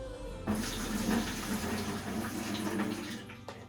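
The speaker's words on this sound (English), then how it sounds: "I always dump off my clean or my dirty water into a separate pan." Dirty water poured from a gold pan into a separate pan during a paydirt panning session, a steady continuous splashing pour running for a few seconds and then tapering off, close by with no talking.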